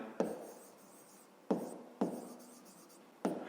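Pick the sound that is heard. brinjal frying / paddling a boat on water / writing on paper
writing on paper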